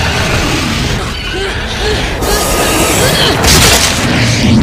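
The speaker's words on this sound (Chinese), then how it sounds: "怪物直接被列车压成了碎片" In a sci-fi monster film, a train rumbles through and crushes a creature, with loud booms, shattering crashes and grinding metallic impacts in a dense, sustained roar.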